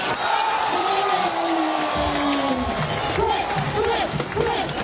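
Crowd cheering for Qatar at the ANOC Beach Games 4x4 men's beach volleyball gold medal match against the USA, a loud, sustained roar with rhythmic chanting and shouts, and a commentator talking over it.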